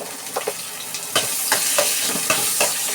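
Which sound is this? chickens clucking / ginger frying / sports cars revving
ginger frying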